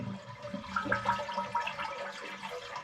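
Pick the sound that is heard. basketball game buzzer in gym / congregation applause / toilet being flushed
toilet being flushed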